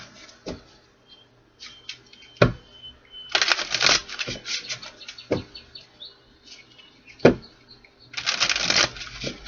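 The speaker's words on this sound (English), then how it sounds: "let's do 4 shuffles here" Tarot cards are riffled in a few quick bursts of crisp fluttering, separated by sharp taps and brief pauses, close and fairly loud.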